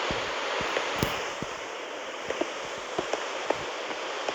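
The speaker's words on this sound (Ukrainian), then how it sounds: "Сьогодні у страшну погоду я йду в страшний дощ." Heavy rain falls steadily in bad weather, a dense constant hiss close by, with scattered sharper drop impacts and a few small knocks on top, no voices.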